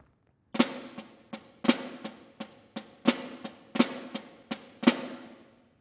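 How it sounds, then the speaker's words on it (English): Snare drum flams with a single grace note, crisp close strikes falling in an alternating pattern of louder accented hits and lighter taps, about a dozen in all with short ringing decay and no voices. "Here's 1 grace note, or flams."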